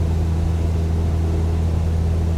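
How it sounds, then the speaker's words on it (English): Cessna 172 piston engine in cruise flight after the fuel mixture has been leaned, a steady, loud cabin drone with strong low harmonics and no talking. "Engine sounds better."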